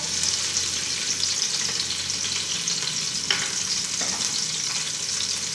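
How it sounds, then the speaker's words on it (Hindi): Onions sizzle in hot oil in a pot over a medium flame, a steady close crackling hiss with a couple of light stirring knocks; no voices. "प्याज को पकाएंगे।"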